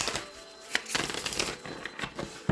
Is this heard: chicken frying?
no